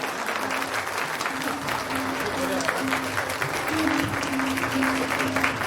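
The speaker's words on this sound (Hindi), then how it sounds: "जोरदार तालियां।" Steady applause from an audience fills the whole stretch, even and fairly loud, greeting India's Minister of State for Defence at a formal event, with a faint voice underneath.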